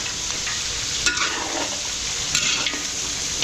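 Garlic and onion sautéing in a pan for chicken pastel in a restaurant kitchen, a continuous bright sizzle with a few louder bursts of stirring and scraping.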